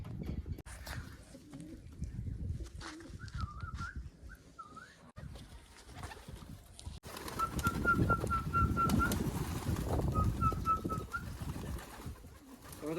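Pigeons cooing in soft repeated phrases over rustling outdoor background noise, the coos growing more frequent in the second half.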